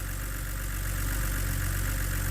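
A BMW N52/N54 straight-six engine idles in a steady, even hum with a low throb, loud and close, with no voices.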